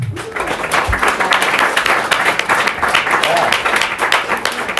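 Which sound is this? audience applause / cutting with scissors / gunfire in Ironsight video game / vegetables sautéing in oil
audience applause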